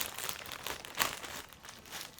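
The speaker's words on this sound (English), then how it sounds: "So they come in these little plastic bags" A small plastic bag holding tulip bulbs crinkles and rustles up close in short, quiet bursts, with one sharper crackle partway through.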